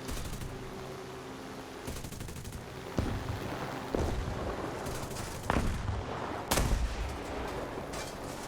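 A P-39K aircraft's guns fire in War Thunder, a sustained roaring rattle of automatic fire with several sharper bursts punching through near the middle and end, loud and close over the aircraft's engine.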